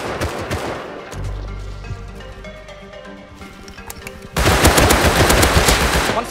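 Rapid automatic gunfire from the survival game Rust rattles in dense close bursts, easing into scattered shots before a loud sustained volley erupts near the end.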